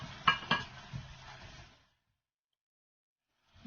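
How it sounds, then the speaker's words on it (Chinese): Kumquat syrup simmers in a pot while a spoon stirs it, making a few light clinks and scrapes against the pot over low bubbling before everything falls silent. "我们在中间呢要不时搅拌，避免粘锅"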